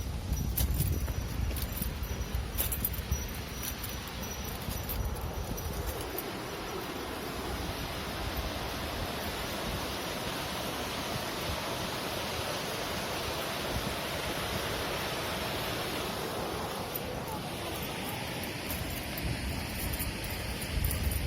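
A swollen stream running high through a forest park after rain, heard as a continuous broadband rush of flowing water, fairly close and steady, with faint voices nearby.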